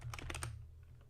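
Quick bursts of typing on a computer keyboard while writing code, several close, crisp keystrokes in a short cluster that trail off into quiet.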